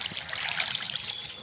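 Water flows and trickles near a waterfall in the video game Minecraft, a steady, bubbling stream that stays fairly close, with no voices.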